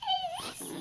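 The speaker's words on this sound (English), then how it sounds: "You hear his little growl." A young puppy teething and chewing makes a short, close vocal sound, a brief whiny growl rising from a thin tone into rougher noise.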